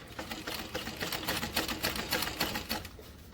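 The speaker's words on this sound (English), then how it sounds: "You want to do a baste stitch across the bottom." A sewing machine runs a basting stitch across fabric, its needle producing a fast, even, rattling chatter that continues steadily throughout at a moderate distance.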